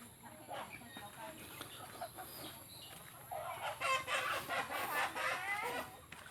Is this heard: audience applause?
no